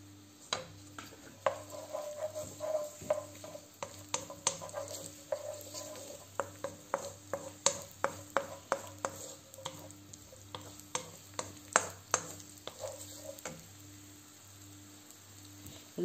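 Chopped onion sizzling in a hot pan, with faint steady frying under a run of sharp, irregular ticks and pops close by.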